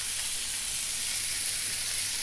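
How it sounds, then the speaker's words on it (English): Venison steaks sizzle in butter in a hot pan, a constant close, bright crackling hiss that holds steady without any talk. "let it cook, let it sizzle away."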